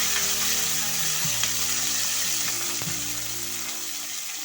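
A large chopped onion fries in a pan with drumstick leaves, giving a steady close-up sizzle with faint stirring scrapes and a low hum underneath.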